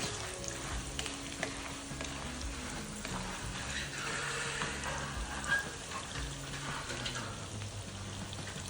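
Green and dry chillies crackle and sizzle in hot oil for spicy puffed rice, a steady dense frying hiss close by, running unbroken with no talk.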